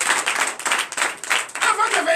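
Enthusiastic hand clapping from a church congregation during worship, continuous and close, with voices cheering and shouting over it.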